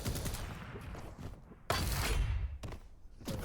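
A nail gun fires during a competitive Quake match, with loud rapid bursts of sharp impacts in quick succession amid other game action, mixed with explosive thumps.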